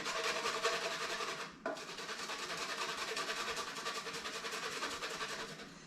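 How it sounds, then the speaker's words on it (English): Fresh ginger is grated by hand for a watermelon tomato salad, a continuous close, quiet scraping rasp with a short pause before it resumes, with no talk. "we're going to grate some ginger into here."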